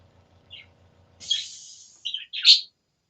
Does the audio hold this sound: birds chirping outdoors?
yes